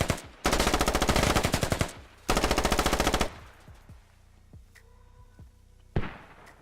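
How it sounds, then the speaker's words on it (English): Automatic weapons fire in the military shooter game Squad, with two long loud bursts of rapid shots, followed by scattered lighter pops and a final sharp blast; no clear mortar impacts stand out. "Oh, mortars."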